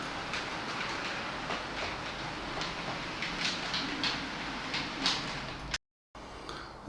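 An OO gauge model train runs along a dock-themed layout, a faint continuous rolling rumble with light repeated clicks over the track, ending in a brief dropout.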